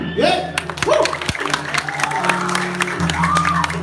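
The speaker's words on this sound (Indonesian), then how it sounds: "Tepuk tangan." Audience applause with scattered cheers and whoops at a live prembon performance in the wantilan hall of Pura Dalem Wanayu, a steady crowd sound with a voice and music carrying over it throughout.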